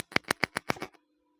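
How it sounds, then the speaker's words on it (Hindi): Six quick clicks in a rapid regular burst from the power button of a Grenaro wireless microphone, close and crisp, followed by a faint low hum. "अब मैं 3 बार लगातार ये बटन दबाता हूँ"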